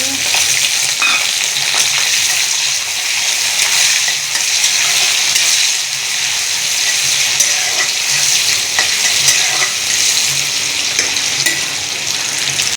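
Garlic, chilli and chopped onion fry in oil with a loud, close, unbroken sizzle, faint stirring ticks scattered throughout.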